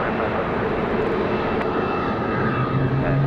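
An airliner lands on runway 5 left at Raleigh-Durham International in wind, with a loud, continuous engine roar and rumble throughout.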